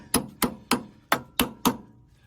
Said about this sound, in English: My makeshift hammer.